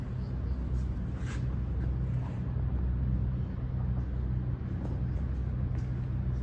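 A 15-inch by 30-inch LeBlond toolroom lathe runs with a steady low mechanical hum and rumble, continuous and fairly close, with no talking over it.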